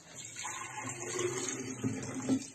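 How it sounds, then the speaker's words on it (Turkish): Tap water being poured from a jug into a device for making disinfectant, a soft, steady trickling and splashing that is quiet and close, with no talk over it. "Koyduktan sonra cihazımızın içerisine çeşme suyunu ekliyoruz."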